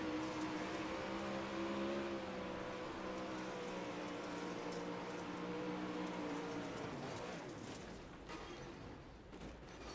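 An onboard race car engine drones steadily at high revs, a sustained loud harmonic roar with slight pitch shifts. Near the end the note falls away as the car lifts, with rushing wind noise underneath.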